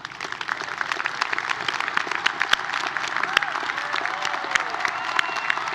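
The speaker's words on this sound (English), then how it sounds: "round of applause." Sustained audience applause fills a hall at the 2018 CSUN commencement for the Mike Curb College of Arts, Media, and Communication. Many hands clap rapidly and loudly, with faint cheering and a few whoops mixed in.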